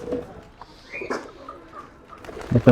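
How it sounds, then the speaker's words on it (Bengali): Pigeons coo close by in a loft while being fed after their molt, with a few low, soft coos spread across the moment and a louder burst at the end. A faint voice is briefly heard. "এই যে এখানে কিছু কবুতর আছে"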